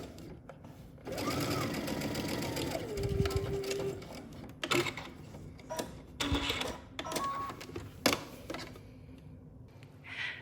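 A sewing machine stitches a folded fabric hem in a close, steady mechanical whir. It stops and restarts, with light clicks and ticks between the runs.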